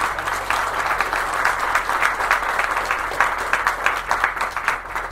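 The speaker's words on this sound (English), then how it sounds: "I'd like to give a shout out and an applause to them as well." Audience applause fills the room at a public library branch reopening, a steady sustained wash of many hands clapping, fairly close and loud, continuing evenly throughout with no speech over it.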